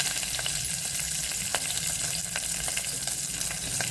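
Seven or eight green chillies roasting in a hot pan for a brinjal-free pigeon pea pod curry: a steady, close sizzle with scattered sharp pops and light scraping throughout, no voices.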